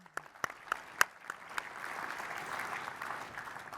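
An audience claps after a live tech demo, starting with a few scattered sharp claps that quickly swell into steady, moderately loud applause from a sizeable room.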